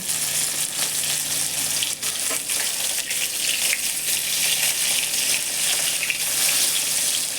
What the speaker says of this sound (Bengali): কড়াইতে তেল দিয়ে ভেজে নেব। ইলিশ মাছ বেশি ভাজা লাগে না